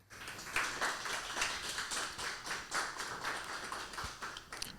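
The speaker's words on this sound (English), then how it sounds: "could we please give a little round of applause for Aaron?" Audience applause for the artist Aaron at a talk event, a steady wash of clapping from a modest crowd, evenly sustained for several seconds.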